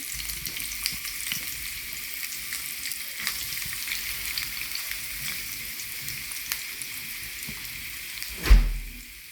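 Chopped garlic fries in ghee with a spice paste for Bangladeshi kala bhuna, making a continuous close sizzle broken by light stirring clicks, then a louder knock near the end.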